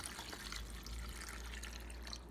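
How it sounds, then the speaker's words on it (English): Carrot and ginger water pours into a blender, a soft, continuous splashing trickle that stays fairly quiet and close, with no talking over it. "Now we're gonna go ahead and add that carrot and ginger water back to"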